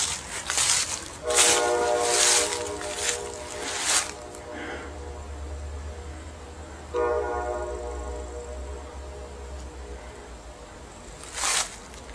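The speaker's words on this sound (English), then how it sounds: "all we have is the sound of our train." At night beside still water, a train rumbles low and steady while its horn sounds in several loud bursts, pauses, then blasts again, with a brief far-off honk near the end.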